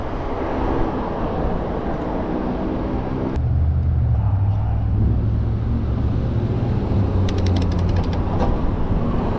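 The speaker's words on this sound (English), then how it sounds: "Car is behind me trying to run me over." A car rolls along close behind an electric bike, the Haoqi Cheetah, on a windy road: a steady low engine and tire rumble that swells after a few seconds and carries on loudly under constant wind noise.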